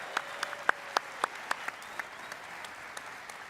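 Sparse, scattered claps ring out in a conference hall as panelists are welcomed on stage at a Bitcoin event, about eight distinct hits that thin out and fade within a few seconds.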